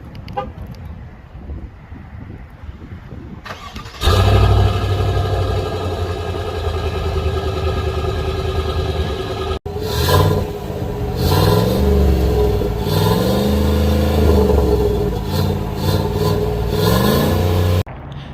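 Exhaust of a 2021 Chevrolet Silverado 1500 with a 5.3-liter V8, a low idle that jumps into a loud sustained rumble, then several rising and falling revs, close and alone.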